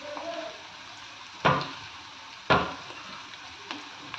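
Onions dropped into a hot pan to fry, two sharp bursts of sizzling about a second apart, easing into a quiet steady crackle with a faint third sizzle near the end.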